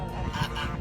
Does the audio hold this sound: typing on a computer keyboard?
no